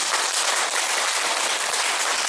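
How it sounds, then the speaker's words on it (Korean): An audience at a Buddhist dharma lecture claps for the monk in dense, continuous applause that stays loud and even for a couple of seconds, with no speech over it. "이럴 때 우리가 스님께 박수 한번 보내드리겠습니다"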